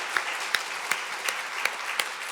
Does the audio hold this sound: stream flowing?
no